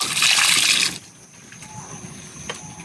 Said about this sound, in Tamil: தண்ணி ஊற்றிடணும்.